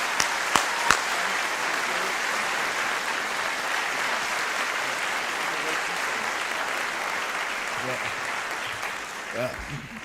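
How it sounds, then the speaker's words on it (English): A large crowd at a senior awards ceremony claps loudly and continuously, dense sustained applause that fades slightly toward the end. "if you would please join me for a round of applause"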